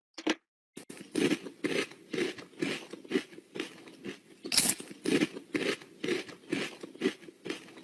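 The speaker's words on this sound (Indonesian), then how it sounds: "yang paling diingat sama orang-orang adalah suara kriuk-kriuknya gitu ya" Loud, rapid crunchy bites, one after another in a steady rhythm after a brief opening bite and a short pause, close and alone with no talking.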